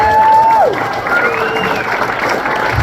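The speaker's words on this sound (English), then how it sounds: "So, Tuckerman, let's hear a round of applause if you're happy that Tuckerman's running for office." A crowd at a political gathering claps and cheers in a steady, close wash of applause for a candidate running for office, with a brief whistle or voice near the start.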